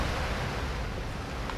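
A waterfall in the King Kong PS2 game gives a steady, broad rushing roar of falling water that fills the whole moment evenly, with no talk.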